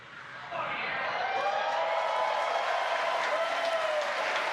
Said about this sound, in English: you can hear by the clapping and cheering behind me